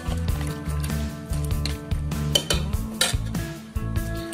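Spices stirred into curry pieces in a pan, with repeated scraping and clinking of a spoon against the metal pan and soft wet squishing, steady and close, with no talking.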